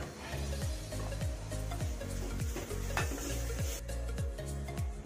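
Ground pepper, cumin and garlic sautéing in a pan for a needlefish curry, a continuous close sizzle with a rapid, regular rhythm of spoon strokes scraping and tapping against the pan.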